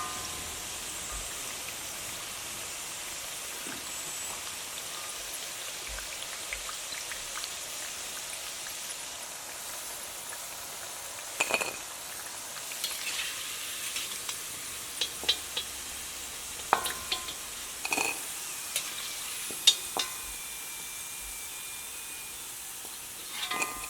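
Wheat flour and egg tea-time snack frying in hot oil, a steady soft sizzle with scattered sharper pops and crackles through the second half, with no talking.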